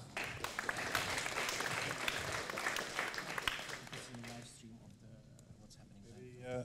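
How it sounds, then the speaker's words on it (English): An audience bursts into loud applause after a hack demo presentation at a science hack day in Eindhoven, sustained clapping for about four seconds before fading, with a few faint voices and tones after. "Big applause."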